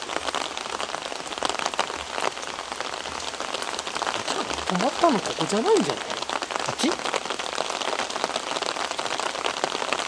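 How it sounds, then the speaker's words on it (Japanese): Heavy rain falling at a shrine patters densely and steadily on surfaces nearby, a constant hiss with scattered drops, while a couple of people speak briefly over it. "向こう雨強くなってきやがった"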